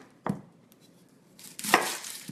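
A knife slices the root end off a yellow onion on a cutting board: one sharp close chop, a pause, then a second crunchier cut, with no voices.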